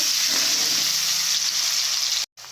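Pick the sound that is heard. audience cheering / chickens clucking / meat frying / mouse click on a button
meat frying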